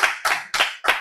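An audience at a health lecture gives four crisp, evenly spaced hand claps in quick succession, close and fairly loud, with no talking over them.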